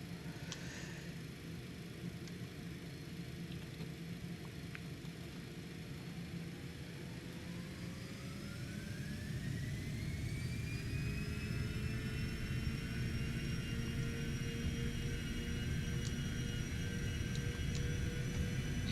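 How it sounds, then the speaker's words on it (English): A Cessna Citation X's jet engines spool up to takeoff thrust in a flight simulator game, a low steady roar with rising whine tones that climb and settle as the sound grows louder and holds. "Takeoff thrust is set."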